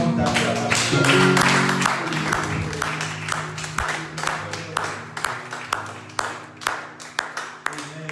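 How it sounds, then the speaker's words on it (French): A church congregation bursts into applause, a dense loud clapping that thins out into scattered, separate claps near the end. "Offre avec moi une offrande d'acclamation"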